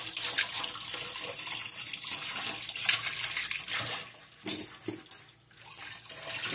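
Running tap water pours steadily into a kitchen sink as dishes are rinsed, a loud continuous splashing hiss with brief dips and clatters as items pass under the stream.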